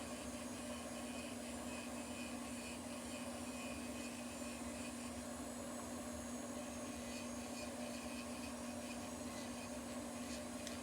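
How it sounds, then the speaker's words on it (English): An electric nail file fitted with a ceramic cross-cut fine-medium bit thins toenails during an at-home pedicure, giving a steady, continuous high whine with a constant hum throughout, close by and without talk. "I use the ceramic cross-cut fine medium bit to keep the dust down while I thin her nails with the electric file"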